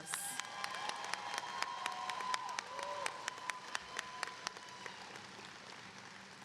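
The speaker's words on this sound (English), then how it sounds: "Can we give our student speakers another round of applause?" A graduation audience at a high school ceremony applauds its student speakers, a long spread of many crisp claps that sounds distant and fairly soft, gradually thinning toward the end.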